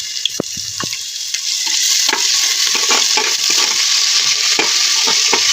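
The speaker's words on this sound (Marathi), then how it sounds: "कांदा लालसर भाजत आला तर आपण याच्यामध्ये अद्रक लसूण टाकू" Chopped onion fries in a pan for masala rice as ginger and garlic go in, a steady close sizzle that swells louder after the addition, punctuated by scraping stirs.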